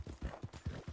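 Horse hooves clip-clop in a brisk, regular rhythm in Red Dead Redemption 2, about four close, muffled thuds in quick succession.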